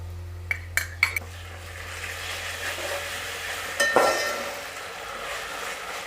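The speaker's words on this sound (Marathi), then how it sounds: "कांदा गोल्डन होईपर्यंत सगळं परतून घ्यायचं आहे" Onions being sautéed in a pan until golden, a soft continuous sizzle with a few sharp clinks of a spoon against the pan at the start and a scrape partway through.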